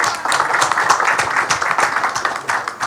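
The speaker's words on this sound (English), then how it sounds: "please give a huge round of applause for all our esteemed dignitaries with us" Applause from the audience at a Filmfare press conference with Karan Johar, Janhvi Kapoor and Varun Dhawan, dense and fairly loud clapping from many hands that holds steady for about three seconds.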